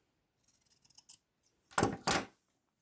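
Scissors snipping a fabric tab shorter: a few light quick clicks, then two loud close crisp cuts in the quiet.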